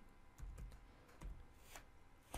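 Keystrokes on a computer keyboard typing a search term into a penetration-testing tool, a scattered run of light taps, close and fairly quiet with no talk.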